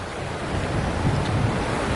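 Steady rush of surf breaking on a beach with low rumbling swells, mixed with gusty wind buffeting the microphone, continuous throughout with no voices, on the Rakiura Track in New Zealand.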